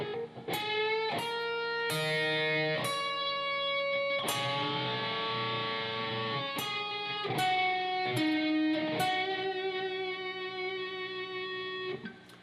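A slow electric guitar lick, played solo in a blues-rock style with a slightly driven tone: a dozen or so distinct picked notes and bends with sustained ringing between them, close and clear.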